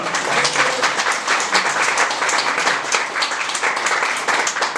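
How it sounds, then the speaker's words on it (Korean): A church congregation at a Korean Presbyterian revival meeting breaks into sustained applause, dense and even clapping throughout with no speech over it. "박수로 하나님께 영광 돌립시다"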